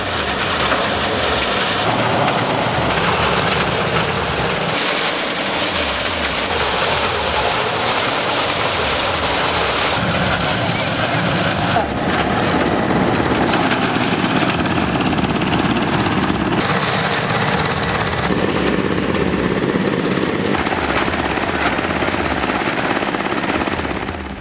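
A soybean thresher runs steadily and loudly for the whole stretch, a continuous mechanical roar with rattling, chattering texture and slight shifts in load, with no voices over it.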